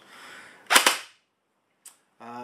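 A G&G GR15 Raider airsoft AEG with blowback fires two sharp, close cracks in quick succession, followed by a brief faint click and then a steady mechanical buzz at the end.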